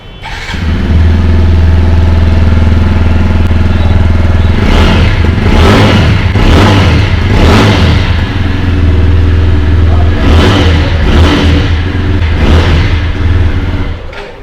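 A TVS Apache RTR 160 motorcycle engine idles loudly with a steady low rumble, then revs up in several sharp bursts of exhaust roar, close by.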